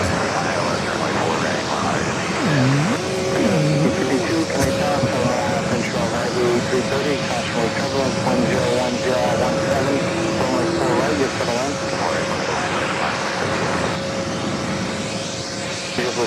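Steady roar of an airliner taking off from runway 4 left at JFK, heard at a distance and continuing throughout, with people talking over it.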